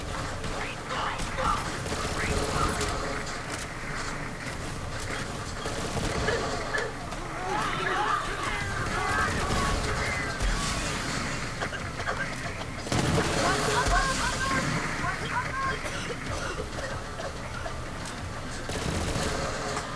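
The Kyb's Worth legendary weapon from Borderlands 3 fires in dense, rapid bursts, a continuous clattering barrage of gunfire mixed with game effects and someone talking over it throughout.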